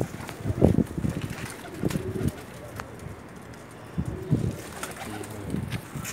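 A Pakistani pigeon coos in soft repeated low bursts, three or four short throaty phrases spaced a couple of seconds apart, close by with light wind noise on the microphone.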